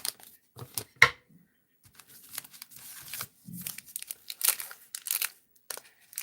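Kit Kat wrappers being unwrapped, crinkling and tearing in short irregular bursts, close and fairly quiet with pauses between handling sounds.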